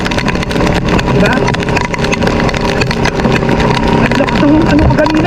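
Motorboat engine running steadily and loud throughout on a flooded street in Marikina during heavy typhoon rain, a continuous mid-pitched drone with voices talking over it.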